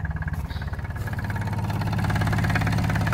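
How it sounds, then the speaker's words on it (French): Lombardini engine in a 2019 Casalini M20 microcar idling close by, a rhythmic, chugging diesel-like putter that starts uneven and settles into a steady, fuller beat, with no talking. "Le Lombardini fait un excellent bruit."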